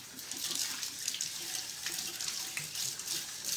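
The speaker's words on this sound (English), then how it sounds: "let me wash my hands real quick" Hands are washed under a running kitchen water tap, a steady close hiss of flowing water with faint splashing, with no voices.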